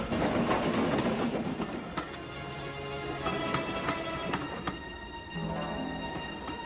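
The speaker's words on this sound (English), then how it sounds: "Meanwhile, James puffed along his route." Steam locomotive puffing along a route in a wintry setting, heard as a steady rolling rumble with rhythmic chuffs and rail clatter, loud and close at first, then easing a little, with no voices.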